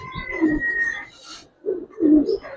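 Female racer pigeon with a very short tail and chocolate-toned colouring gives soft, low cooing phrases close by, a rolling coo early on, a brief pause, then two more coos.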